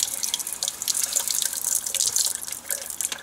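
Canon inkjet cartridge rinsed under a running tap, a short close splashing hiss of water hitting the sink, steady for about three seconds.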